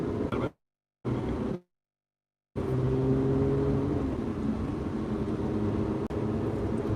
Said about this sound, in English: I'm heel toe downshifting, so I'm rolling off the brake to blip the throttle on the downshifts.